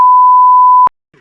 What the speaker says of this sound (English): I'll just have to beep them out